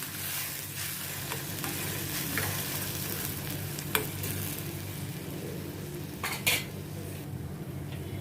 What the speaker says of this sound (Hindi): तो अच्छी तरह से मैं प्याज के साथ मिक्स करती हूँ